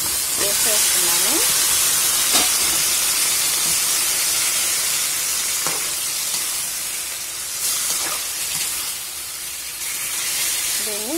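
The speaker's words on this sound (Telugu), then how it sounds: "వేగిన తర్వాత మనం ముందుగా కడిగి పెట్టుకున్న చికెన్ వేసేస్తున్నాము" Washed raw chicken hits hot oil in a curry-style fry, setting off a loud continuous sizzling hiss that runs the whole time, broken by a few sharp crackles and faint clinks.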